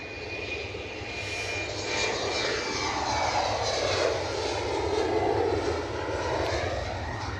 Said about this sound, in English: that's an Embraer going, is that London City?